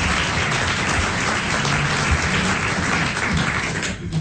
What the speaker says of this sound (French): Pouvez applaudir